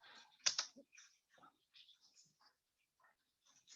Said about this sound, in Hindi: एंटर करते जाएंगे, कीबोर्ड से एंटर बटन दबाते जाएंगे